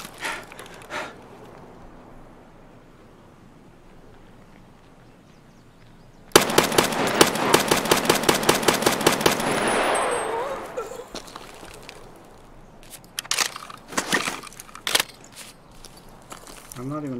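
Rapid bursts of automatic gunfire in the shooter game Escape From Tarkov, a loud sustained volley followed by scattered single shots and impacts, with players talking before and after.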